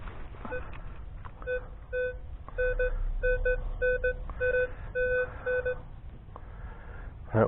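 An Anfibio metal detector rings a high, steady tone over a buried target in a dug hole, sounding as repeated short beeps in regular pulses over faint background rumble.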